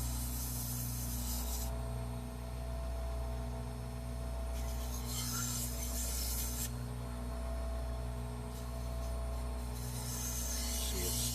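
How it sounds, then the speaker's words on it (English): Turned wood, a 12-inch longtail oblique on a lathe, sanded with 120 grit sandpaper: steady rubbing hiss in several long bursts over a constant motor hum, close and fairly loud, no talk. "Now using 120 grit."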